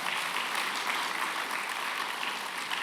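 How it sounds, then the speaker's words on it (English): Students applaud at a university careers seminar, a steady, dense wash of clapping that holds at an even level for the whole stretch without letting up. "Students, let's give him a round of applause again."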